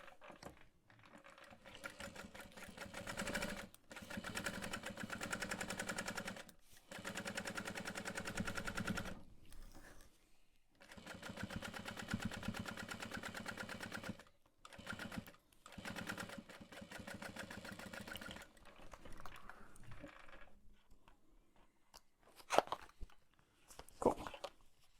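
A sewing machine stitches fabric for a slouch bag pattern in long, rapid runs of mechanical whirring and clatter, stopping and starting several times between bursts, with a few sharper knocks near the end.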